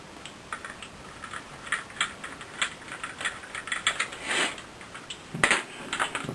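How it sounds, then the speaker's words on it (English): Screws being gently driven back into plastic parts of a disassembled item, heard as soft, irregular clicks and ticks close by with no talking. "Gently put the screws back in, don't have to be done up tight"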